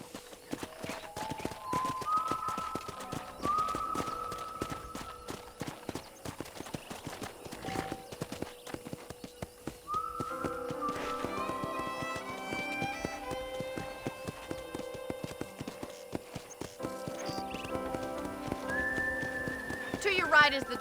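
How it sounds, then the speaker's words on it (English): Steady clip-clop of horse hooves at a trot in Red Dead Redemption, with a horse whinnying and game music playing underneath throughout. "let's see if you can still ride a horse."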